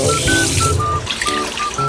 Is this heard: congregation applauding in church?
no